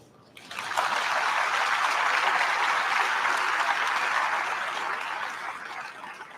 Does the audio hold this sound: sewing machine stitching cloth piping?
no